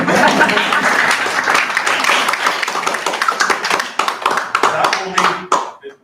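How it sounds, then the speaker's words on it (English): At a public forum on libraries, a crowd claps together, starting as a dense loud ovation and breaking into scattered, distinct individual claps before stopping abruptly near the end. "This is an applause."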